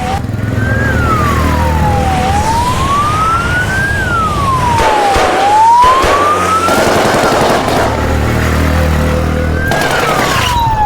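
An ambulance siren wails, rising and falling in slow sweeps, loud and continuous, over steady traffic rumble with a brief burst of sharper noise midway.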